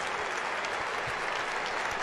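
Cricket crowd applauding David Warner's triple century, a dense sustained wash of clapping from a large stadium audience, steady and loud across the whole stretch.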